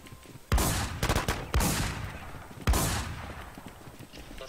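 Three loud, close gunshots ring out in the online survival shooter WarZ, spaced about a second apart, each followed by a long echoing tail.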